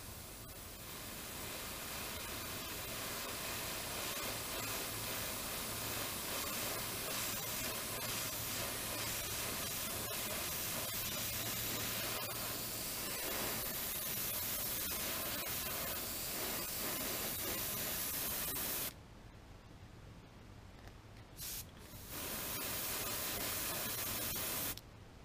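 An airbrush sprays a thin coat of paint onto a crawdad-pattern fishing bait with a continuous, close hissing rush that runs steadily for most of the time, breaks off briefly, then resumes with a short burst.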